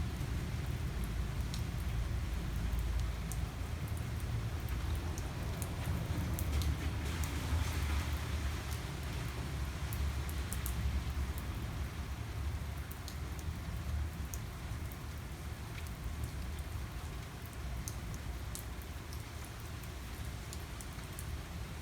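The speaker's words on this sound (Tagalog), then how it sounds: "Lumalakas ang ulan, lumalakas. Kumukulog pa siya." Heavy rain falls steadily on a rainy morning, a dense and even hiss with a deep low rumble underneath. Scattered drips and crackles run on without a break.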